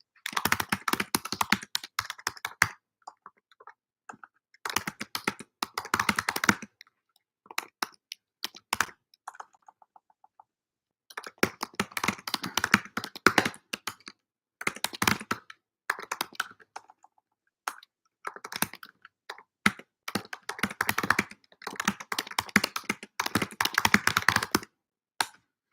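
Typing on a computer keyboard, with bursts of rapid clicking keystrokes separated by short pauses, close and fairly loud with no talking.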